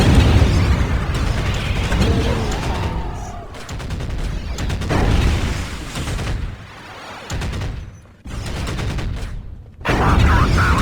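Thunderous volleys of artillery and rapid gunfire in the Dark Prophecy Warhammer game, dense overlapping blasts and rattling bursts with brief lulls, mixed with battle voices.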